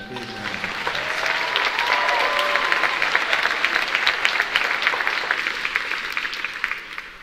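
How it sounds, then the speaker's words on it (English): A university audience at a State of the University address gives campus police a big round of applause, with sustained, dense clapping that swells and holds, and a voice heard briefly at the start. "Can you give them a big round of applause?"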